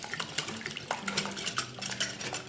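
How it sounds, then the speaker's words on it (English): Three large room-temperature eggs being beaten in a bowl, a quick run of close clinking and whisking strokes against the bowl, steady and uneven in rhythm with no voices. "I want to beat the eggs really well."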